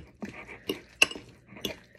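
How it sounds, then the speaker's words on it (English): Spoon stirring tuna wrap filling with jalapeno and scallions in a bowl, a handful of light clinks and scrapes at an uneven pace, close and clear. "then you're just gonna stir until the mixture appears creamy"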